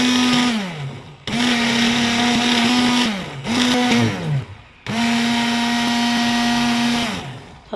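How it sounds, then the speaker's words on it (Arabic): A hand blender whips chocolate sauce until thick for banana crepes, its loud steady motor whine running in three long bursts separated by brief pauses, with no talking. "بصوا بقى هنضربه كده اهو بالهاند بلندر بتاعنا"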